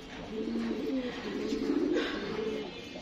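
Pigeon coos from a loft of tournament racing birds, including senior cocks, sound as soft, repeated low rolling calls that run steadily throughout, moderately close and with no talk.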